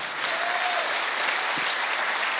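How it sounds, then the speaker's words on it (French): Sustained audience applause at a comic-book festival tribute event, dense and steady throughout with no speech over it. "Mesdames et messieurs, vous pouvez de nouveau les applaudir."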